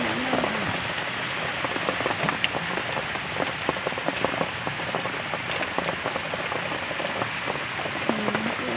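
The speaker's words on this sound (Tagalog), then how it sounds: "Naku po, bumuhos na ang ulan." Heavy rain pours down steadily, a dense constant hiss with drops pattering on a hard surface nearby, no talking.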